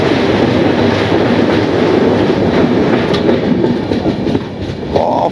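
The Saraighat Express, running from Howrah to Guwahati, rumbles steadily along the track with faint rhythmic clicking of the wheels, loud and continuous from inside the moving train, with no talk.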